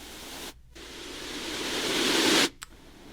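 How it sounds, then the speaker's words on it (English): White noise from a Letsfit sound machine: a steady broadband hiss that swells gradually in level, cut by two brief gaps where it stops and restarts, with no talking. "We have our white noise sounds."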